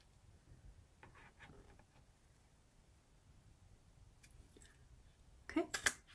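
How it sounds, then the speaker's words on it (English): A hole punch bites through a paper card in a few sharp, close clicks near the end, preceded by quiet, faint handling sounds. "put the little dot in the center, punch a hole"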